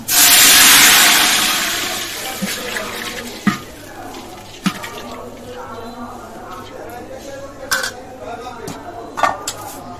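Water pours into a biryani pot holding whole garam masala, bay leaves and shahi cumin, a loud rushing splash that tapers over a few seconds, followed by scattered clinks of pots and utensils.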